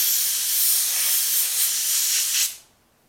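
An airbrush sprays green paint for a Minecraft Creeper design, a steady close hiss of air and mist that fades out abruptly near the end.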